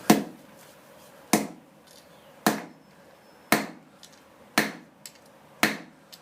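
Hammer blows strike hot iron during forge welding, six sharp, ringing impacts at a slow, even rhythm with a few lighter taps between them, close and distinct.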